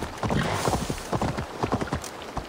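Horse hooves clip-clop in a quick, steady rhythm while galloping in the video game Assassin's Creed Valhalla, close and fairly loud with no talk over them.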